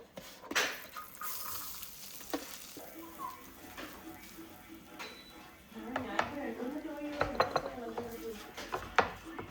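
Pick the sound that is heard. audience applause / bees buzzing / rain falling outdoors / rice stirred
rice stirred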